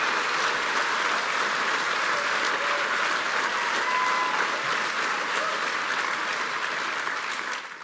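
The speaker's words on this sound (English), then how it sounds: "So you can hear the applause there." Sustained crowd applause during a Conservative political speech, a dense, even roar of clapping that holds steady and fades slightly at the end, heard alone without talk.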